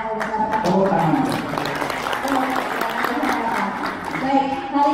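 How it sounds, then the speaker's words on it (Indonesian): Seminar audience of a scout group clapping on cue, a dense burst of applause that rolls on for several seconds with a speaker's voice audible over it. "Suruh tepuk tangan lagi biar dilihat apa bicara. Tepuk tangan."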